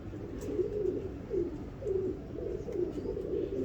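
A pigeon coos in a steady series of low, rolling calls close by, repeating roughly every half second with no voices.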